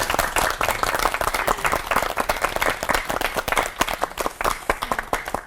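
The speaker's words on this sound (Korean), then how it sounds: "오늘 감사의 박수 보내드리죠" A studio audience at a Christian TV lecture gives a warm round of thanks to three pastors, loud, brisk clapping from many hands, close and continuous with sharp individual claps standing out.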